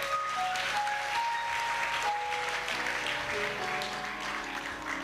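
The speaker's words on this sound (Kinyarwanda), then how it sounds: "Dukomere Imana amashyi." A church congregation clapping for God, with loud, sustained applause from many hands and faint tonal notes running underneath.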